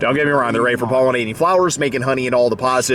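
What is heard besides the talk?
None of the usual background noises is heard.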